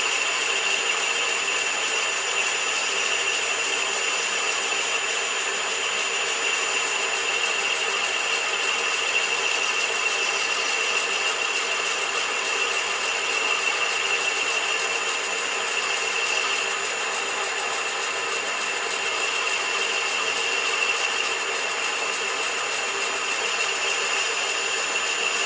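A metalworking lathe making a final cut on a taper using a set-over tailstock, a steady continuous mechanical whir with high-pitched tonal whine, even and unbroken throughout, moderately close with no talking.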